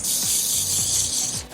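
A loud, steady hairspray hiss sprays continuously for over a second, close up, with faint mechanical ticking underneath.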